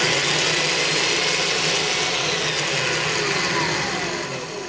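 A Black & Decker electric drill motor whirs loudly and steadily at full speed, then begins winding down slightly at the end.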